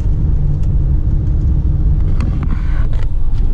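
A tow truck pulls hard from first into second gear, its low engine rumble loud and steady throughout, with a faint mechanical whine riding on top and no voices.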